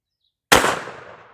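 A single sharp report from a .22 WIN Mag handgun fired outdoors, a loud crack after brief silence followed by a quick decaying echo.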